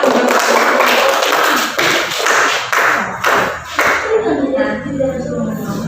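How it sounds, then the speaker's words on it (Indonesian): A classroom of students claps for a classmate during a practice teaching lesson, a loud, dense round of claps with a few firmer accents that fades after about four seconds into quieter room noise and voices. "Tepuk tangan untuk Ilham."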